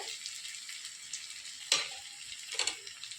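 Steady, quiet sizzling of masoor dal fritters frying in oil, with a couple of louder crackling bursts near the end.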